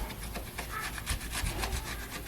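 Old valve cover seal being scraped off a cylinder head, a steady raspy scraping in quick back-and-forth strokes, close and continuous with no talking.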